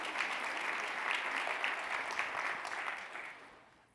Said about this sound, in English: Yes, clap it up for that.